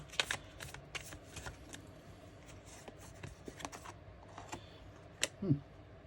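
Tarot cards riffle and snap in quick crisp bursts close by, a brief flurry of papery clicks followed by a few scattered taps. It is quiet overall.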